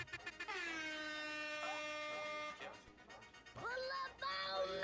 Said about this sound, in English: Let's give an air horn for Joyner